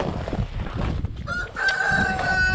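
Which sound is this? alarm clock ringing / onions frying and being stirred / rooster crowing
rooster crowing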